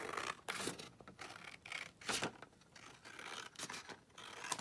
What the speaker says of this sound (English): So, I just want to cut this roughly here.